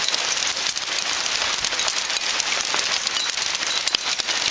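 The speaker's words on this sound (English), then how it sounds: "Coming down that hail." Hail comes down outdoors in a dense, steady clatter of countless small impacts, a continuous crackling patter with no voices heard.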